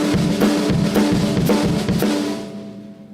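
Drum kit playing a shuffled half-time groove during a drumming clinic, steady kick and snare hits with ringing overtones, loud and close, fading out at the end.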